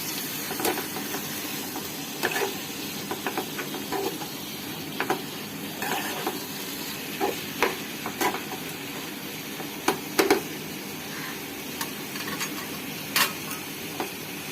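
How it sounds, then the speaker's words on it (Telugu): Bone-in chicken for a spicy ghee roast is stirred in a pan, giving a series of irregular utensil taps and scrapes over a soft, low sizzle. "బాగా కలుపుకోవాలి"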